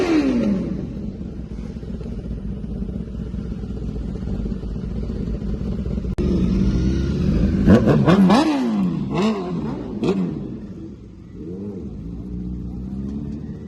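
Several motorcycles at a riders' event, among them an R15, MT, RX, Bullet, Xpulse, NS, RC and Pulsar, rev hard with rising and falling engine whines over a steady close idling rumble.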